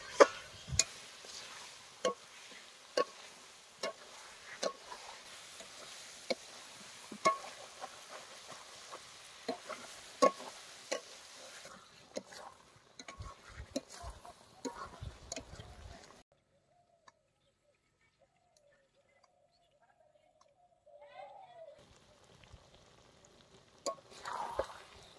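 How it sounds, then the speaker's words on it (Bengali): Chicken liver and gizzard fry with spices as a spoon stirs them: faint, regular scraping clicks over a low sizzle, then near silence before a few more clicks return. "বন্ধুরা হজমি আর মেটেগুলোকে এখন মশলার সাথে ভালো করে কষিয়ে নেব।"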